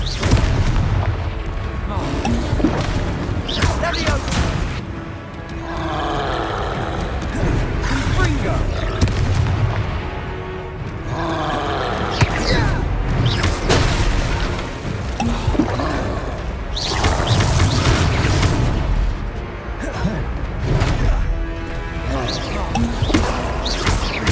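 Confringo blasting spells in the Hogwarts Legacy video game, repeated booming explosions with rumbling impacts amid game combat, with voices shouting spell names over the blasts.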